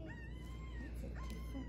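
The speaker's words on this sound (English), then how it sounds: "So we've got three puppies." Newborn French bulldog puppies whimper softly in a litter of three, thin high whines rising and falling a few times over a steady low background hum, faint and close.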